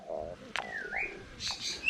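Exotic birds in a villa garden in Ubud, Bali give a mix of whistles, a rising and falling whistled note and short chirps, fairly close but quiet, with no talking.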